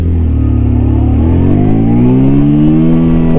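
A Bajaj Pulsar 125 motorcycle engine revving in first gear, loud and close, its pitch climbing smoothly as the engine speeds up.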